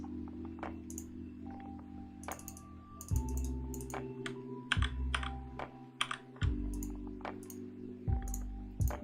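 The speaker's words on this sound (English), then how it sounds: "I apologize for having to click, but BlueStacks is super slow if I hold the button down" Rapid mouse clicking in the BlueStacks emulator while playing Idle Heroes, with quick sharp clicks repeating in a steady, busy stream over a low background hum.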